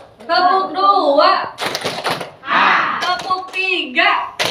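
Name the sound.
hand clapping, clap pattern two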